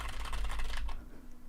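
Rapid typing on a computer keyboard with crisp, close key clicks in a steady flurry for about a second, then stopping into quiet room tone.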